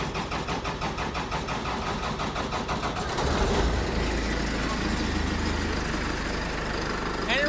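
A 1966 Dodge Power Wagon engine starting for the first time in about five years: cranking, then catching around midway and settling into a steady, fairly loud idle.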